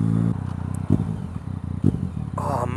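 A Yamaha MT-09 with an aftermarket exhaust rumbles steadily close by, its low, throaty tone surging in two brief revs before settling, with a voice talking briefly over it.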